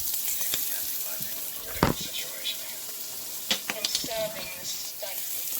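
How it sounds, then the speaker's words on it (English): Hot oil sizzling steadily in a pan before shrimp pasta is cooked, a constant hiss with occasional pops, clinks and stirring sounds, and a voice speaking faintly over it. "Hear the sizzle?"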